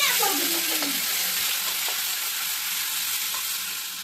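Masala spices hit hot oil for a fish curry and sizzle in a loud, steady hiss that holds close and continuous, then eases slightly toward the end.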